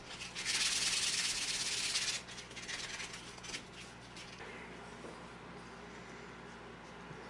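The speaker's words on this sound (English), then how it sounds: "And now we're back to sanding." Hand sanding of wooden knuckle dusters, a quiet, close rasping rub that is strongest in the first couple of seconds before it eases into softer, intermittent scratching.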